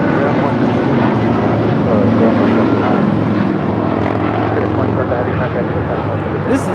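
A Turkish Airlines Boeing 787-9 Dreamliner, Flight 180 bound for Istanbul, departing with a loud, steady, close engine roar and low droning hum that holds throughout, faint voices mixed underneath.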